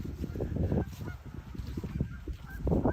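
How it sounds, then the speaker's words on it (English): Flock of geese gathered by a lake on a sunny day, a dense chorus of overlapping honks from many birds, fairly near and continuous, with bursts swelling and fading. "More the local annual gathering of geese."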